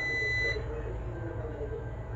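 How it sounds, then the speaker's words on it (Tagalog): A continuity tester's steady high-pitched electronic buzzer sounds for about half a second while checking an electric kettle's neutral line, then cuts off, leaving low background hum. "Nag-buzzer siya."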